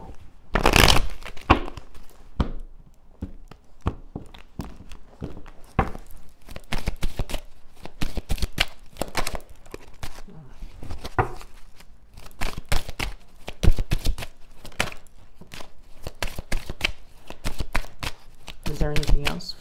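A deck of tarot cards is shuffled by hand in quick, rapid riffles and crisp flicks that continue steadily, close and clear, while a person talks over the shuffling.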